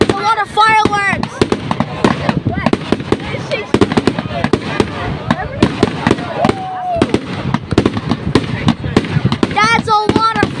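Dense fireworks display over Pounawea, with rapid crackling bursts and booms packed throughout, several whistling rockets rising at the start and end, and excited voices talking and exclaiming over the blasts.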